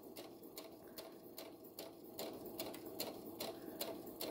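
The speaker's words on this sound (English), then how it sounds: "I'm going to continue to sew." A sewing machine stitches a fabric mask, a quiet, rapid mechanical patter with regular ticking pulses, steady and close throughout, no talking.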